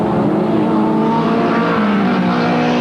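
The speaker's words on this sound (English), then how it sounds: "The track's specifically set up for the lightweight midgets as they race off turn 4, heading to the white flag." Lightweight midget speedcars roar loudly out of turn 4 on a dirt clay track at a 1985 memorial race, engines howling in a dense, sustained high-revving drone.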